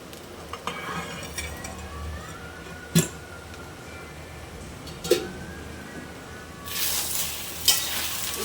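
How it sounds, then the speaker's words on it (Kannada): Okra frying in a pan hisses softly and continuously. A few sharp utensil knocks and clinks stand out over it, and a louder burst of sizzling comes near the end. "ಬೆಂಡೆಕಾಯಿ ಹುರಿಯೋ ಅಷ್ಟರಲ್ಲಿ"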